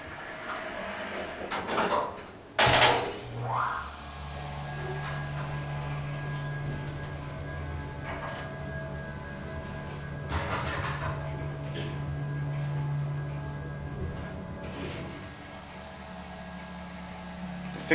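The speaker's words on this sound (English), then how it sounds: "As you can hear, it's relay controlled." An early-1970s relay-controlled Otis Lexan hydraulic elevator in an office building runs with a sustained low motor hum and an annoying fan, broken by loud clunks and clicks of relays and mechanisms near the start and midway.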